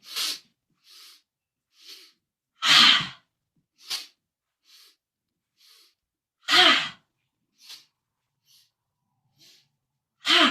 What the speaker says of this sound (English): So we come up, out, all the way up, and okay? So sniff in.